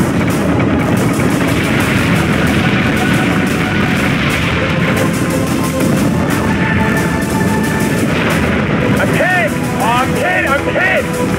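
Ship guns firing in a space battle in Battlestar Galactica Deadlock, with a dense, continuous roar of booming fire and engine rumble, plus a few rising electronic warbles near the end.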